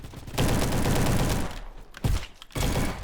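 Rapid automatic gunfire in Roblox Bad Business, with loud sustained bursts from a submachine gun broken by brief pauses, close and dense.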